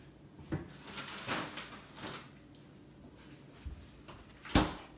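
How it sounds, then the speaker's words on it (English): A kitchen freezer door is opened and closed with a few soft knocks and thumps, a sharper bang near the end, over a quiet room background with no talk. "I'm gonna go put this in the freezer really quick"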